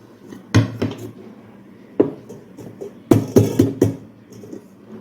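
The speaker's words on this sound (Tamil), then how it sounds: "இப்போ தட்டை போட்டு இப்படியே கமுத்தி எடுத்துடலாம்" Clattering knocks of a plate and metal cake tin being handled and flipped over to turn out a sponge cake, a series of sharp close clanks and thuds.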